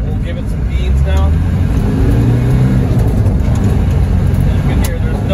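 A 1990 Land Rover Defender 200Tdi engine drones loudly and continuously, pulling up through the revs as the vehicle accelerates, heard from inside the cabin.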